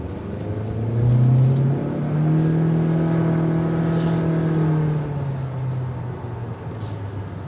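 A 2023 Honda Accord EX accelerates in sport mode from inside the cabin, its engine drone rising steadily in pitch and holding before easing off, smooth and moderately loud with no talk.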